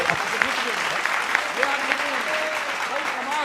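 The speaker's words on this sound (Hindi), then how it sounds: "तालियां जरा जोर से बजाइए, जरा और उत्साह से।" Audience applause at a Hindi political satire stage show, a steady wash of clapping with voices and scattered calls over it, fairly loud and sustained throughout.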